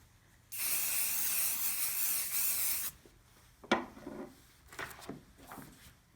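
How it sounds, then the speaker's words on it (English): A continuous hissing burst of aerosol adhesive sprayed onto the back of fabric lasts about two seconds, followed by a few soft rubbing and tapping sounds nearby. "You simply spray the wrong side."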